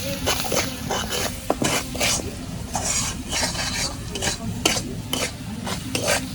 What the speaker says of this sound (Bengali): মশলাগুলো এখন তেলের মধ্যে কষে নিই।